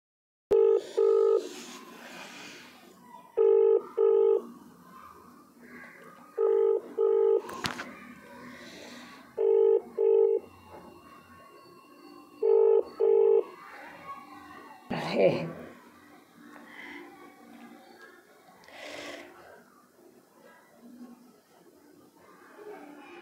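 A phone dialled with a few repeated pairs of steady ringback tones at regular intervals, followed by a louder burst and a stretch of people talking in the background, close and clear.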